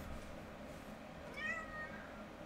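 A cat lets out a single meow around the middle, fairly faint and slightly distant, standing out briefly over steady low room noise with no talking.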